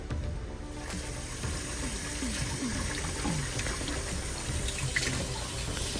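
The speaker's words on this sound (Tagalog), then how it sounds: "lilinisan natin ang chicken skin natin 5 beses para mawala yung lansa" Running water pours steadily from a faucet over raw chicken skin in a kitchen sink, a constant splashing hiss with small gurgles, fairly close and without talk.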